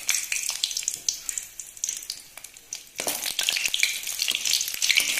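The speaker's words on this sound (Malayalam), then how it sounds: "ഇപ്പൊ ഫ്ലെയിം ഒന്ന് നല്ലോണം കുറച്ച് വെച്ചിട്ട് ആദ്യം നമുക്ക് വറ്റൽമുളക് ഇട്ടെടുക്കാം" Dried red chillies frying in sesame oil over low flame, a close crackling sizzle that surges louder partway through as more hits the hot oil, with sharp pops throughout.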